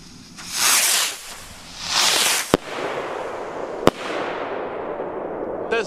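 TOTAL PXR303 firework rockets launch with two rising whooshing hisses, followed by sharp single bangs and a long crackling, fading tail, heard outdoors at moderate distance with no talk.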